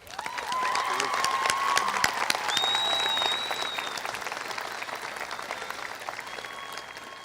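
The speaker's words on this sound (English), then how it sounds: "So if everyone would please give him a round of applause" High school commencement audience applauding, a broad sustained clapping crowd with scattered whistles and cheers, easing slightly toward the end.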